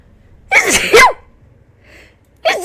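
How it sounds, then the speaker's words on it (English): Someone sneezes directly into a close microphone, two sharp loud bursts in quick succession, then a quieter breath and the start of another burst at the end. "I just sneezed directly into the microphone."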